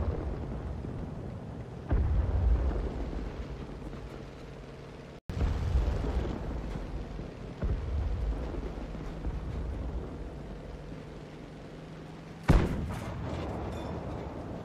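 In the World of Tanks video game, an enemy tank is destroyed amid heavy rumbling booms and artillery-like blasts, with a sudden loud explosion late on over continuous low engine roar.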